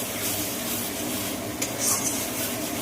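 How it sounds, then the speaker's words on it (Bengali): Spice paste with tomato and green peas fries in oil in a pan while a spoon stirs and scrapes through it, giving a continuous close sizzle and rustle. No one speaks. "আমি কিছুটা মটরশুঁটি দিয়ে দেবো দিয়ে মশলাটা ভালো করে আরও কষাবো"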